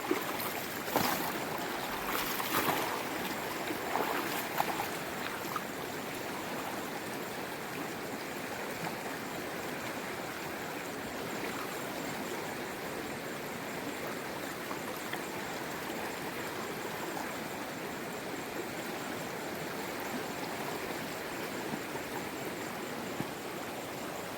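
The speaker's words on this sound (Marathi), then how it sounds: "कारण बाजूला नदी पण आहे" Steady rushing water of a river flows continuously, a broad even wash of sound like a stream, with a few brief knocks near the start and no voices.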